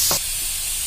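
Chopped tomatoes hit a hot pan for a chicken curry, giving a brief burst of sizzle and stirring near the start that fades into a steady low hiss.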